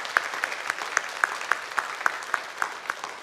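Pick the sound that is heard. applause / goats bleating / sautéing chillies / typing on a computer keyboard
applause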